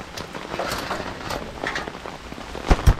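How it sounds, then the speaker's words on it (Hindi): Heavy rain pours down steadily in a village, an even patter with a couple of sharp, louder knocks near the end and no voices. "वो बारिश इतनी ज़्यादा हो रही है।"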